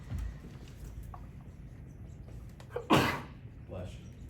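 A single sharp sneeze bursts out near the middle, amid faint room noise and soft background sounds.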